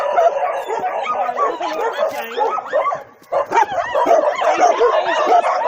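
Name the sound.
dogs barking at shelter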